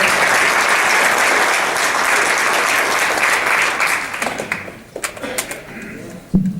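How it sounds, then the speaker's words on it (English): A round of applause for a coach at a school district board meeting, dense and loud at first, then thinning after about four seconds into scattered individual claps and small knocks. "Yeah, we give him a round of applause."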